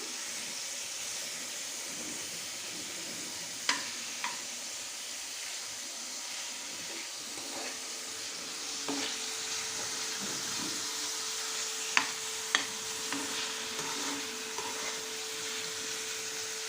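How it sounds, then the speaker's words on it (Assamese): Fish frying in oil with onions as it is stirred, a steady close sizzle and hiss broken by a few sharp utensil clicks and scrapes, no talking. "মাছখিনি মই ধুনীয়াকৈ ভাজি ল'ম।"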